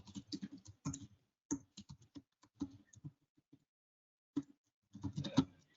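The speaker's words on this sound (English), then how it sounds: "And I type in tab," Quiet, close tapping on a computer keyboard in an office setting, irregular bursts of keystrokes with a short pause near the middle before a final quick cluster.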